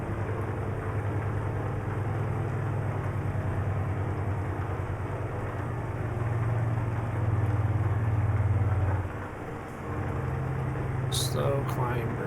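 Heavy truck engine in Euro Truck Simulator 2 on a Brazilian map, straining up a steep hill with a steady low, loud drone that rises in strain near the end before briefly easing, with a voice talking over it.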